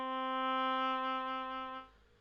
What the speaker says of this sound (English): I write a very short melody for this oboe voice